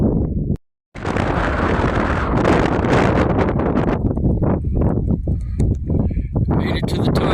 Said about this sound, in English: The wind up on the peak, on the summit, is brutal. It's about 60, 70 mile an hour.